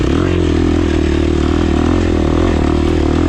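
A KTM 350 XC-F four-stroke dirt bike engine running hard on a rocky hillside race course, a loud continuous buzzing drone at high revs, close and steady with no pauses.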